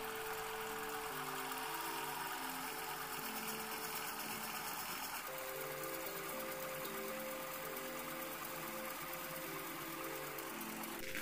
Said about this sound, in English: This begins with some 8mm bar stock that is turned down to accommodate an M8 die.